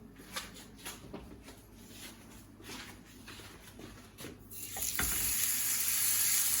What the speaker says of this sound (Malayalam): എന്നിട്ട് ഈ ചൂടായ പാനിലേക്ക് സ്റ്റേക്ക് ഇടുക.